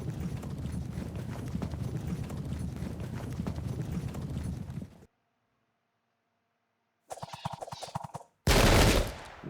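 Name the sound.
Cossack gunfire volley in Pike and Shot video game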